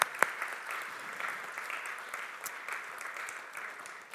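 Steady applause from an audience, a continuous patter of many hands clapping at moderate volume, with no voices over it.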